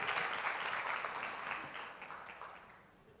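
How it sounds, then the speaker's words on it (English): Audience applause at a talk by Mariana Atencio on trust in organizations, steady dense clapping from a crowd that slowly fades toward the end, with no voices over it. "Big round of applause for the 3 of them."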